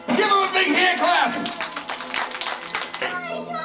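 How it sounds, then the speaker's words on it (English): A small group claps for a child's karate board break, close, quick and uneven hand claps following an opening burst of excited voices and cheering. "Give him a big hand clap!"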